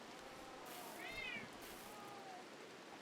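A single short meow from a pet cat cuts through a faint steady background hiss, close by and clear, with no one talking.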